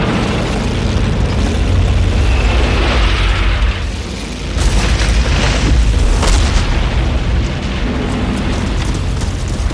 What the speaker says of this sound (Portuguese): bombardeando-as com lançadores de foguetes que eles chamam de órgãos de Stalin